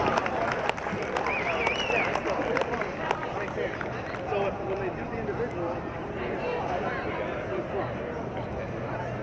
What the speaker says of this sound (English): let's have a big round of applause for this year's second place finisher